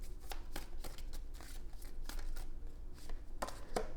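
Tarot cards being shuffled in rapid, crisp bursts of riffling and flicking, close and fairly steady throughout with no talking.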